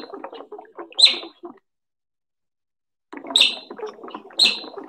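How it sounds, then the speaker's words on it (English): An otter gives short, high, chirping calls in two bursts separated by a silent gap of about a second and a half. "An otter makes this sound."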